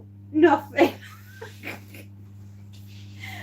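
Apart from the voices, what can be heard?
sneeze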